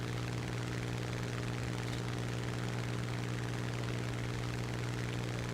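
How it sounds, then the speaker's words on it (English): A propeller bomber's engine drones steadily and continuously in the War Thunder air combat game, a constant mechanical hum with no speech over it. "There's another bomber there."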